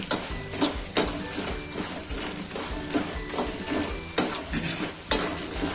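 Continuous sizzle of food frying in oil, punctuated by sharp scraping and clinks of a utensil against the pan.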